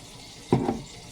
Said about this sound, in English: So I'm gonna dump that juice in there now.